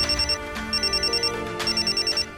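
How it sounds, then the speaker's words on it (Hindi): A phone ringtone plays loud and close, repeating a bright, rapid pulsing melody in three short bursts. "एक मिनट बेटा, सिद्धि का ही फोन है।"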